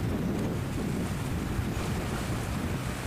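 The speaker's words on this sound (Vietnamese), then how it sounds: "gió tương đối là lớn" Strong wind roars across the open sea around a fishing boat off Phú Yên, a steady, dense rush with wave wash beneath it and buffeting on the microphone, loud and continuous with no voices.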